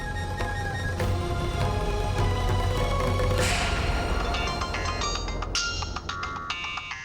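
A phone ringtone sounds as a call is placed. It plays as loud, steady electronic tones over a dense background mix of music, and no one speaks.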